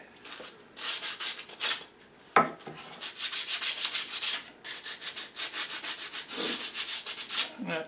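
Wood being shaped into a spatula with steady, close rasping and sanding strokes that scrape continuously, broken by a brief pause and a sharp knock partway through.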